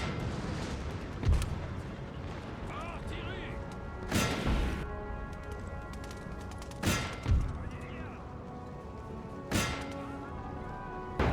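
Cannon fire from French artillery in the Napoleon Total War strategy game, set on a Peninsular War battlefield: four heavy booms spaced a few seconds apart, moderately loud over steady battle ambience and distant gunfire.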